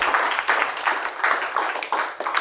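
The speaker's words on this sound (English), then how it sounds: "I'm going to ask everybody for a warm applause for all our panelists" Warm applause from a conference audience for a panel of speakers at a freelance policy forum in Brussels, a steady wash of many hands clapping with rhythmic surges, moderately close and continuous without talk.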